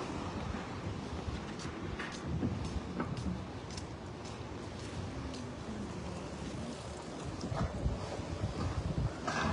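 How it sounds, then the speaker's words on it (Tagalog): Gusty wind blows steadily outdoors on a cold day, a broad continuous rushing with buffeting against the microphone and no voices. "Hangin kasi."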